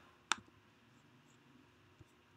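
A single sharp computer mouse click comes close to the mic, and a much softer click follows about a second and a half later. Both sit over a quiet room background.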